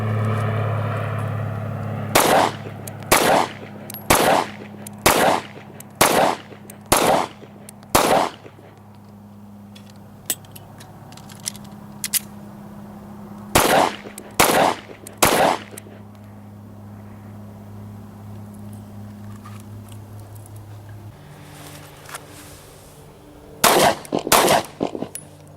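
A Beretta Nano pistol fired at a range: loud, sharp single shots in evenly spaced strings of several rounds, with pauses between strings and faint background noise.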